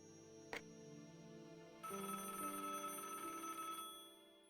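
A telephone rings in the Broken Sword video game, a short click followed by a sustained electronic ring that holds steady and then fades, heard alone and fairly faint.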